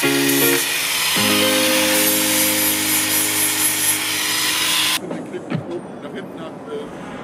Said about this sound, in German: Aber jetzt erstmal fangen wir an, das Deck zu schleifen